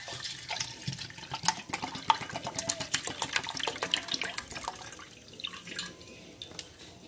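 Half a litre of water splashes and pours into a Colgate toothpaste mixture, a steady trickling stream with dripping, bubbling detail that thins out toward the end.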